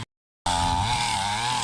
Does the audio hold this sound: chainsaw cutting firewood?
yes